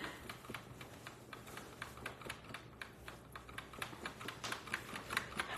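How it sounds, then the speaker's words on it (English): Quick irregular tapping on a computer keyboard as a dog's wagging tail knocks the keys, soft and close, with no voices. "wagging his tail, it's hitting the keyboard"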